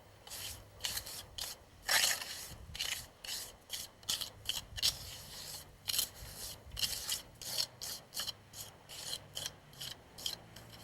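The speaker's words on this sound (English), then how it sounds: "Scrape off the excess cement." Excess cement is scraped off a stone wall with a tool, producing repeated short gritty rasping strokes in an uneven rhythm, close and fairly quiet, with no voices.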